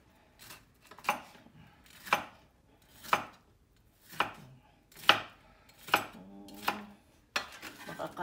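A knife slicing vegetables such as bitter gourd on a cutting board, a steady series of about eight crisp chops roughly one second apart, close and distinct with no talk over them.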